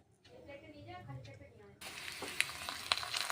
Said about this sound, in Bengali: আবার একটা ছেড়ে দিলাম, ভেজে নিচ্ছি।